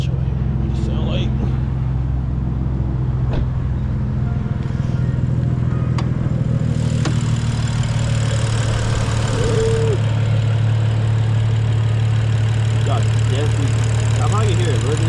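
A BMW E92 coupe with an N55 engine and straight-piped exhaust runs at a steady, deep, loud drone, with a voice talking over it at times.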